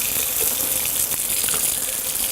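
Tap water runs steadily into a kitchen sink while a bell pepper is rinsed, a continuous close splashing gush with no voices.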